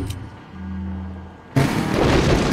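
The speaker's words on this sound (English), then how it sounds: "we're gonna hit him with an incendiary grenade" An incendiary grenade in Resident Evil 4 goes off with a sudden loud whooshing burst of flame after a low hum, then roars on with broad, sustained noise.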